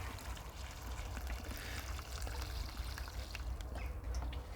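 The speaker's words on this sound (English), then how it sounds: "let me just get the watering can" Water pours from a watering can onto cucumber plants in an allotment garden, a soft, quiet trickle running steadily over low outdoor rumble, with a faint bird call.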